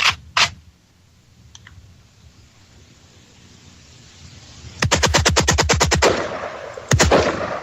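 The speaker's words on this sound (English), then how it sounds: "This is the fully automatic firearm. It's an AK-47." AK-47 rifle fired fully automatic: after a couple of isolated early bangs and a quiet stretch, a rapid burst of about a dozen loud shots, then a shorter second burst near the end.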